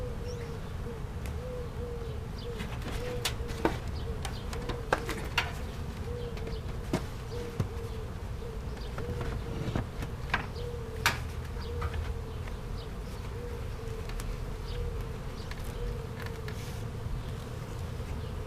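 Honey bees buzz steadily at a hive, a dense continuous hum close by, with occasional faint clicks and taps rising above it throughout.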